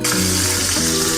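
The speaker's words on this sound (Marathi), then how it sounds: "त्याच्यामध्ये थोडं आपण मोहरी टाकून घेऊ. एका बाजूला थोडं जिरं टाकून घेऊ." Mustard seeds and cumin hit hot oil in a kadhai, a loud, dense sizzle with crackling that holds steady throughout the brief moment.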